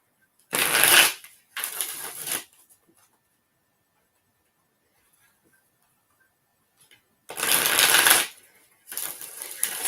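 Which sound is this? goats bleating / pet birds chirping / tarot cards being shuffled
tarot cards being shuffled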